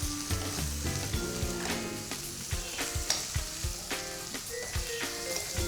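Curry leaves and chopped ginger sizzle in hot oil for a spicy prawn-shell charu, a close, crackling fry with bursts of spattering and stirring, while soft tonal music plays underneath.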